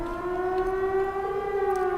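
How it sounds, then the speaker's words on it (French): A steady, wavering siren tone from a fort in the video game Trails of Cold Steel holds for about two seconds, loud and alone, with rich layered harmonics and no voices. "On dirait une sirène."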